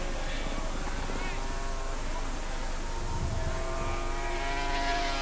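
An ABC helicopter flies over a motorcycle race at Surfers Paradise in 1986, its steady rotor and engine drone mixing with race-bike noise throughout, with a commentator talking over it.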